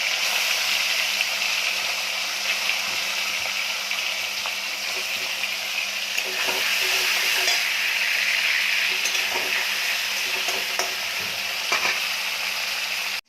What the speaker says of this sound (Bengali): কড়াইতে তেল গরম করতে দিয়েছি, দিয়ে মাছগুলো মাছের মাথাগুলো ভেজে নেব।